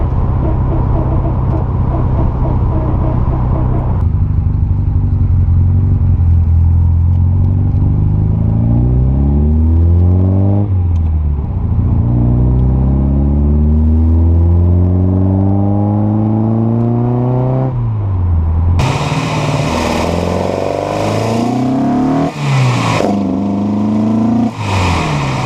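A 1971 Toyota Celica TA22 on its first test drive, engine droning loud inside the cabin and rising in pitch through repeated gear changes, with road rumble and a harsh rattling burst near the end.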